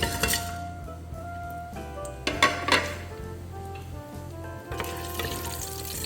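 Whole spices crackle and sizzle steadily in hot sunflower oil inside a pressure cooker, with occasional light clinks of utensils and no talk.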